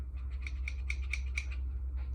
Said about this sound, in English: another pair of like heavier duty scissors